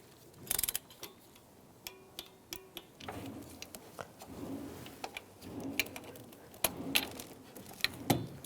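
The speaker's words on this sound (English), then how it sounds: "And torque these bolts to 89 inch-pounds." A torque wrench tightens the throttle body bolts on a 2006-2011 Cadillac DTS, giving a series of sharp metallic ratchet clicks in quick runs. A few louder clacks come from the tool and parts being handled.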